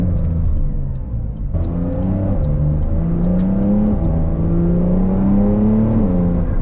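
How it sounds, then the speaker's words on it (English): A 2021 Porsche 911 Carrera 4S exhaust revs and pulls hard, loud and close, its pitch climbing with quick upshifts and a slight burble, with no talking over it. "The exhaust sounds really nice as well."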